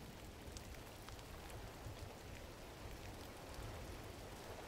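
Rain falling in the video game Gris, a steady, even wash of soft pattering drops with no breaks, moderately quiet throughout.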